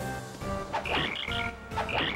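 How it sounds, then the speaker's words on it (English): A cartoonish cricket-chirp effect plays during a battle attack with a badge in Paper Mario: The Thousand-Year Door, sounding as two quick bursts of raspy, croak-like chirps, close and clear with no talk. "if you attack using that badge, then yeah, you get the sound of cricket"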